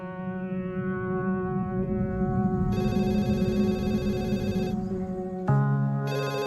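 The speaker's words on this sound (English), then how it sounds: "I remember hearing the phone probably 2, 3 o'clock in the morning" A telephone rings in the middle of the night with a steady electronic ringtone, a continuous harmonic tone whose pattern shifts partway through, loud and close with no voices.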